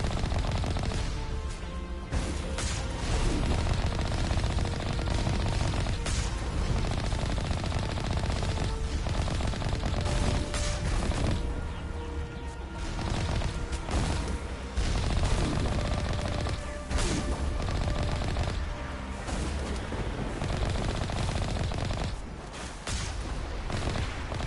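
Sustained gunfire in the sci-fi shooter Mass Effect Legendary Edition, dense rapid bursts of shots overlapping with impacts and booms, loud and continuous for the whole stretch with no talk.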